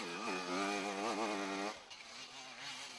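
A TM motorcycle from Pesaro racing, its engine revving hard with rising and falling pitch up close, then cutting off and fading into quieter rumble and distant noise.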